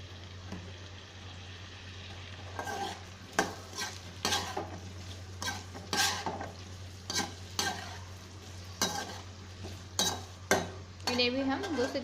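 Cauliflower and carrots stir-fried in a pan for veg biryani: repeated spatula scrapes and clatters in bursts over a faint sizzle and low steady hum, nearby, no talking.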